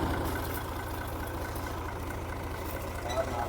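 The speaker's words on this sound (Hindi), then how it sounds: "ये ज़रा मोटर को बाहर निकालना है ट्रैक्टर से।" A tractor engine runs steadily at a borewell while pulling a 260 ft deep submersible pump motor up, a low, even rumble held throughout, with talk mixed in.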